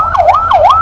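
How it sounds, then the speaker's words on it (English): A loud, close emergency vehicle siren wails up and down in traffic during a protest at Capitol Hill in Monrovia. "What the siren being blown there is about"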